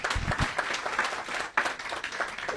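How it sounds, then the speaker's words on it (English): Lively applause from an audience welcoming a guest speaker at a university visit, fast overlapping claps with a brief dip midway, fairly close and steady. "Sous vos applaudissements,"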